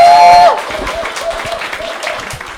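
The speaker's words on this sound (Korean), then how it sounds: "이분 나오실 때 뜨거운 박수 부탁드리겠습니다" An audience at a business presentation applauds as a presenter comes on stage, a steady patter of clapping from a crowd that starts just after a brief tone and continues throughout.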